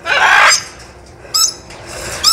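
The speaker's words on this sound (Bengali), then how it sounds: "আর এইদিকে ম্যাকাও পাখি রয়েছে একেবারে এইদিকে খাঁচার মধ্যে বা নেটের মধ্যে" Macaw parrots in an aviary at a wildlife sanctuary forest, giving loud harsh squawks: one long screech at the start, then two shorter calls after quieter gaps, heard up close.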